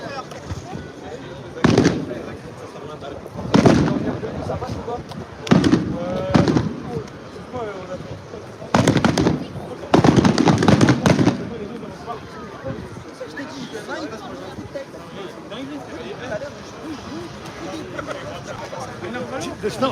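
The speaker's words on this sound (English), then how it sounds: "Ladies and gentlemen, if you look to the right, you will see an exploding battery." Battery exploding and burning at the Le Mans race track on race day at night: several loud sharp bangs and crackling bursts come in uneven clusters over a noisy outdoor background, and people talk throughout.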